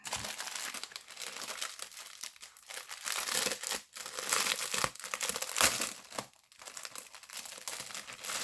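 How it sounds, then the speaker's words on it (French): Paper packaging crinkles and rustles close up while red felt is unpacked, irregular crackling bursts and tearing sounds coming and going over several seconds with no talk. "Je vais faire pas trop de bruit avec les papiers."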